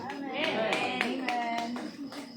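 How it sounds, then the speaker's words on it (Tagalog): A small church congregation clapping for God at a wake, a handful of sharp rhythmic claps close by, mixed with voices speaking. "Mahirang palakpak po yan para sa Diyos"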